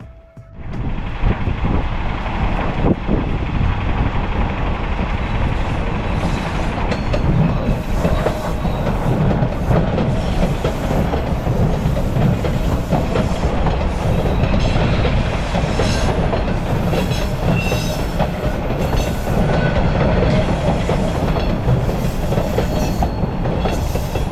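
A Line 2 subway train rumbles past Warden Station for a long stretch, wheels clattering rhythmically over the rails, with a roaring wind-like wash throughout and no voices.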